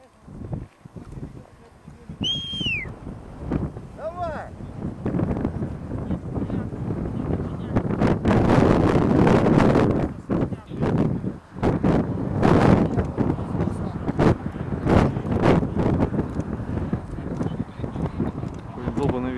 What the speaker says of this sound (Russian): Долбанный ветер качает.